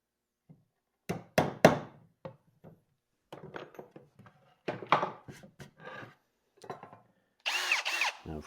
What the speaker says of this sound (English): Now for some drilling.